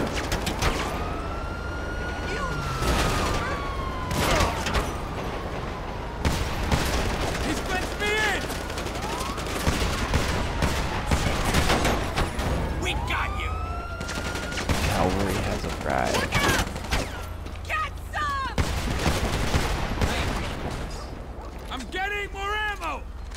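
Gunfire bursts repeatedly in GTA 5 during a police chase, with rapid volleys, scattered single shots and a wailing siren over a busy background of vehicles. Voices talk intermittently between the shots.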